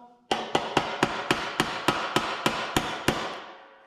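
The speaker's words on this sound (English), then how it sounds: "Give it a little tap." Metal hammer taps seating a wastegate bushing on a BMW N54 engine: about eleven sharp, evenly spaced strikes close up, each ringing briefly before the next, with no talking.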